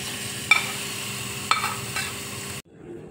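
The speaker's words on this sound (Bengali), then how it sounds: "এবার আমি তড়কাটা চাটনিতে দিয়ে দিচ্ছি" A hot tempering of dried red chillies and whole cumin poured into a date chutney, giving a steady sizzle with two sharp hisses as it hits, then cutting off abruptly into near silence.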